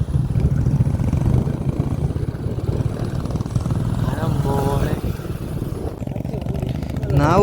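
A Royal Enfield Hunter motorcycle ridden off the road onto rough ground in Bandipur forest, a steady loud engine drone close by with wind buffeting, and someone talking over it.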